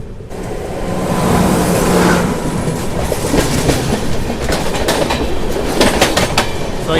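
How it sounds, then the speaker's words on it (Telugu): A passing train heard from aboard the Tamil Nadu Express near Balasore: loud continuous rumble and rattle with clickety-clack wheel beats and a few sharp squeals or clanks toward the end, no talking. "ఇప్పుడే బలాస నుంచి ఏదో ట్రైన్ అయితే వస్తుంది బయటికి,"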